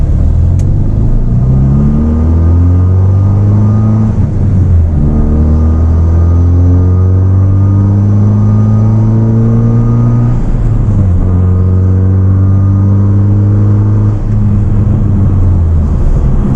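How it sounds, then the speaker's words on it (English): Small turbocharged 4-cylinder engine of a 2016 Hyundai Veloster Turbo driving, loud and droning from inside the cabin, revving up through gears with repeated rising pitch sweeps and brief dips at each shift. "the car is quite loud, especially for a little 4-cylinder that it is, and it's a rather small 4-cylinder at that."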